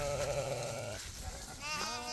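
Sheep and lambs of a flock for sale bleat in a close, loud chorus, one long bleat followed by further overlapping calls.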